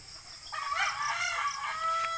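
A yellow-legged Dutch gamefowl brood stag crows once, fairly near and clear, a drawn-out call of about a second and a half over a quiet background.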